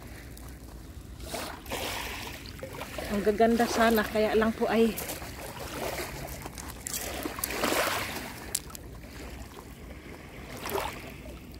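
Waves wash in and surge along a shoreline, with rushing, splashing water rising and falling near the microphone while someone talks over it in Tagalog.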